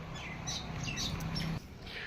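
A peahen calls out in the open near a rainy field, giving a few loud, harsh squawking cries over steady outdoor background noise, then stopping abruptly.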